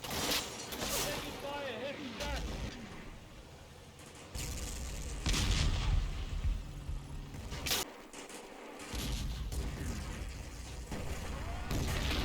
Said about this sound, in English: The 17-pounder comes under fire from the crossroads. They respond with HE.